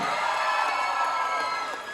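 Audience at a band concert cheering and clapping with shouts and whoops, a dense, sustained crowd roar that stays loud for two seconds before easing slightly.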